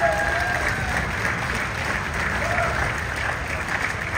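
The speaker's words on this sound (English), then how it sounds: "Please put your hands together for Dan Jordan." An audience applauds steadily at a groundbreaking ceremony for a basketball team's new practice facility, with dense, continuous clapping and crowd noise filling the space, and a faint voice beneath it.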